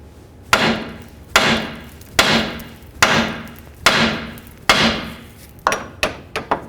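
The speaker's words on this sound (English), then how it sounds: "Now we're going to take our hammer and hit right along this area here" A hammer strikes a tie rod end on a Chevy S-10 in a steady series of about six heavy blows, each ringing briefly, then a few quicker, lighter taps at the end.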